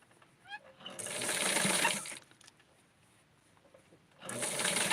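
A sewing machine gathers a doll's skirt in two short runs of close, buzzing stitching separated by a quiet pause, with faint handling clicks just before the first run.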